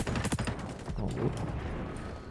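Gunfire in the shooter game XDefiant: a quick cluster of sharp shots at the start, then scattered rattling bursts over a short stretch.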